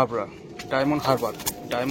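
A home-bred female racing pigeon cooing close by, a few throaty rolling coos in quick succession, loud and near.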